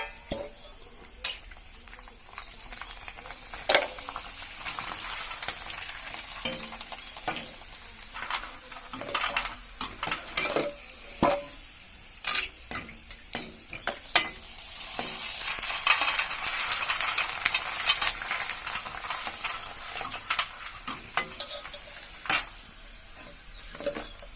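Pieces of nalli sizzle in Health Guard oil in a kadhai, a steady frying hiss broken by frequent sharp clicks and scrapes of stirring, close and moderately loud, with no talking.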